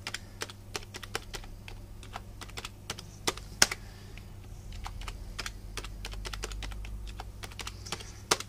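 Fingers type on a computer keyboard in an office, steady irregular key clicks close by throughout, with a low hum of equipment behind.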